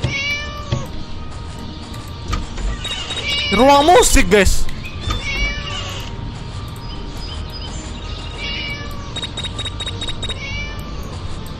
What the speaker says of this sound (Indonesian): Oh ada suara kucing nih.